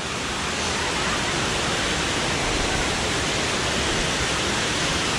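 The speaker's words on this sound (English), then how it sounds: "this is the best waterfall I have seen Kothapalli waterfall" Kothapalli waterfall near Araku, a constant dense rush of falling water heard close and loud, unbroken throughout.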